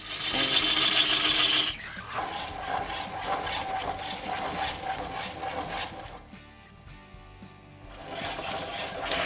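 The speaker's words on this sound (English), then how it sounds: "I started roughing from close to the center, working my way back out to the outer edge of the bowl" A gouge roughs out a green wood bowl blank on a lathe, working from near the center out to the rim, giving a loud continuous rasping cut that drops in level, runs steadily, then swells again near the end.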